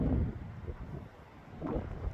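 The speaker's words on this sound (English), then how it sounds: "I did not anticipate it being this windy" Strong wind gusting outdoors on a windy day in San Francisco, buffeting the microphone in loud rumbling bursts that ease and swell again, with no one speaking.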